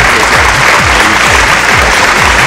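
Loud, continuous crowd applause at an open-air singing competition grand finale in Patna's Gandhi Maidan, with a rhythmic low thumping beat underneath the dense clapping throughout.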